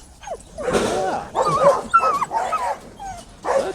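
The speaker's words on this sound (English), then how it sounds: "That's not a happy dog at all." An unhappy dog barks and yips in several sharp, agitated bursts nearby, with whiny, strained tones between the barks.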